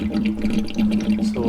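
Water drains steadily out of a Rinnai RSC160iN tankless water heater during a maintenance flush, a close, continuous splashing gush with a low hum beneath it.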